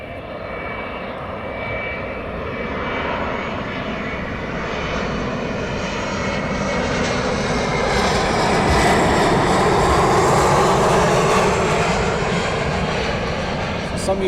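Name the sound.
aircraft arriving at East Midlands Airport at night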